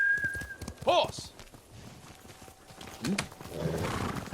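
A horse in a samurai-era Japanese adventure game clops along at a gallop and lets out a sharp, rising neigh near the start. Quieter hoofbeats and ambient sounds follow, with some speech-like sound mixed in.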